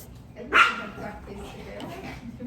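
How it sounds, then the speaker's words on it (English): Dogs fighting indoors during a home yoga session let out one loud, sharp bark, followed by lower scuffling yips and growls that continue at a moderate level. "Okay, we have fighting dogs."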